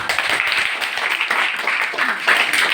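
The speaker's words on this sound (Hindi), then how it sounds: "लीलाधर के लिए ताली बजाओ" Students in a classroom clap for a classmate, a dense, steady patter of many hands close by with some voices mixed in throughout.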